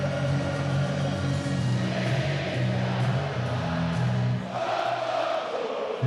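A packed arena crowd at a BKFC bare-knuckle fighting event roars loudly and continuously, a dense wall of cheering with a low rumbling undertone that swells slightly near the end.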